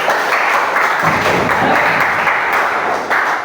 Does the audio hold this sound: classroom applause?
yes